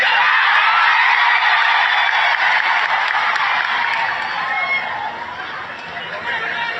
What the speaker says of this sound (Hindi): कितना जोरदार ताली और हल्ला करके कि पूरा तेलंगाना हिल जाए